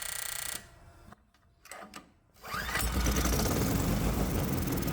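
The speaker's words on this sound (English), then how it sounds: "And the engine started from just the prime." A 212cc Predator small engine with a homemade fuel injection system fires up from just the priming shot, brief mechanical clatter followed by the engine catching and running loudly and steadily close by.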